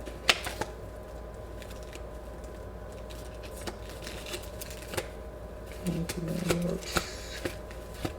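Tarot cards shuffled and riffled by hand, with quick crisp snaps and flutters in irregular bursts, fairly close and quiet, with a short low murmur partway through.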